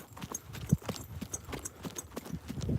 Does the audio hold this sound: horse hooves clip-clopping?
yes